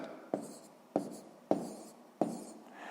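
Numbers are written by hand during a sixth-grade math exercise, four distinct pen strokes at roughly even intervals, close and quiet against a still room.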